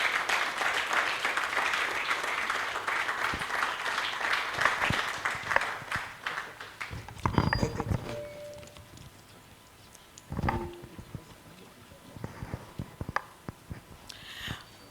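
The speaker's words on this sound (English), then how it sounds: "Let's give her a round of applause." Applause for a woman being welcomed at the opening of a scientific meeting in Ghana, dense clapping filling the first seven seconds before thinning into scattered claps and brief crowd noise.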